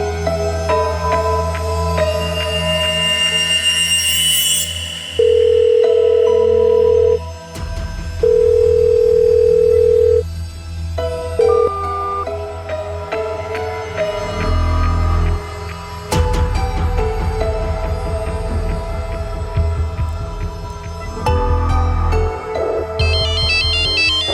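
Telephone ringing in a dramatized crime scene, a loud electronic ringtone pattern with repeated steady tones and pauses under a dramatic music score, no talk.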